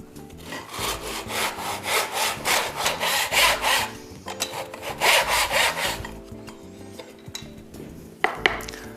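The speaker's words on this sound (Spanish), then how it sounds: "Introducimos ahora la moldura y podemos empezar a cortar." A hand saw cuts through a wooden moulding in rhythmic back-and-forth rasping strokes, close and fairly loud, in two runs separated by a short pause. Sawing then stops, and a few light knocks and taps follow.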